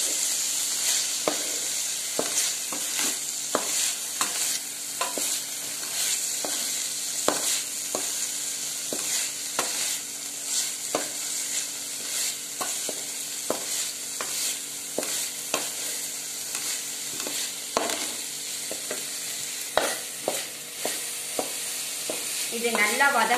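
Curry leaves fry in oil for kuruma, a continuous close sizzle under repeated scraping stirs and clinks of a spoon against the pan, steady and fairly loud throughout with no voices.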